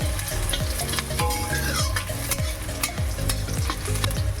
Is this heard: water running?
no